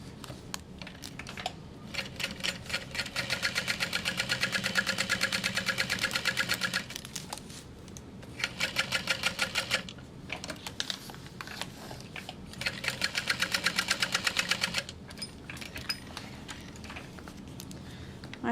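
A home sewing machine stitches a baby sling in three long, steady runs of fast mechanical whirring, separated by short pauses with light handling clicks, close and fairly loud with no voices.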